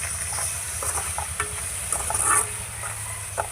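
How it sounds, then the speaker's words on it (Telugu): Tomato chutney with salt and turmeric stirred in a pan, giving soft scraping strokes over a constant sizzling hiss, close by with no talking. "ఇప్పుడు అంతా కలిపేస్తాను."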